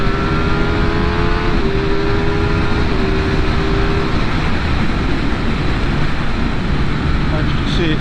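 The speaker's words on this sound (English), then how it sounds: "Give you a bit of acceleration here." A fast motorcycle accelerates on a mountain road, its engine note rising under a loud, continuous rush of wind that dominates the whole stretch.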